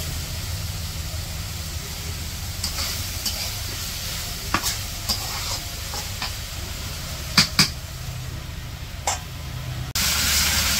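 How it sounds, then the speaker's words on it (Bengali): Eggplant sautéing in a pan for a village fish curry, an even sizzle running throughout with scattered spatula knocks and scrapes, close and alone without talk. "এই যে বেগুন কষানো হয়ে গেছে"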